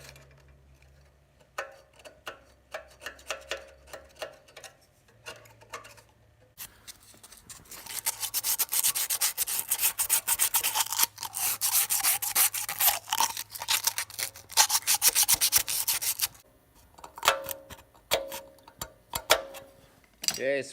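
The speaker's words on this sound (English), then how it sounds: "We're just going to clean up the surface and install the carburetor." Metal scraping on a Gravely walk-behind tractor's carburetor mounting surface: faint scattered ticks at first, then a long stretch of dense, steady rasping strokes at close range, tapering back into sparse scrapes, with no talking.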